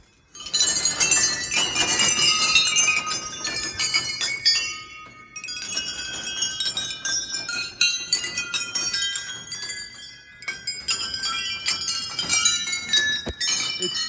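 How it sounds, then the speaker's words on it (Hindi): Many small metal bells ring at Kandoliya temple in Garhwal, a dense, continuous shimmer of overlapping clinks and chimes close by, with brief lulls between clusters of strikes. "आप देख रहे होंगे हर जगह घंटियाँ घंटियाँ, गढ़वाली में इसे घांट बोलते हैं।"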